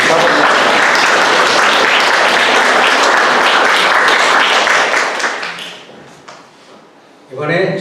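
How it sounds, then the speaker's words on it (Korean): Loud congregation applause at a church's 20th anniversary worship service with Polish members, sustained dense clapping that tapers off after about five seconds before a voice briefly resumes near the end. "우리 폴란드 성도님들 박수 한번 해주세요."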